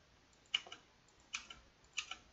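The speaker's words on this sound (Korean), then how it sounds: "탭을 누르면 다음 칸으로 넘어갈 수 있어요. 키보드에 탭." Tab key presses on a computer keyboard give three sharp, close clicks spaced evenly, each with a quick double tap, in a quiet room.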